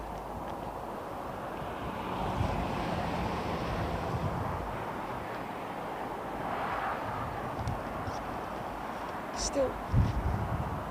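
Wind at Heathrow Airport buffeting an outdoor microphone, a constant rough low rumble with gusty swells and a brief louder burst near the end, while someone talks over it.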